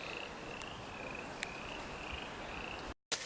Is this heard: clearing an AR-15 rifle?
no